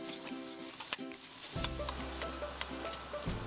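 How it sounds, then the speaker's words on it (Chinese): Minced pork sizzles in a pan as it is stir-fried and pushed apart into small bits, a soft crackling hiss with scraping stirs, fading briefly before the sizzle swells again. "我哋就可以慢慢咁样将啲猪肉推开，慢慢将佢炒成一粒粒咁样"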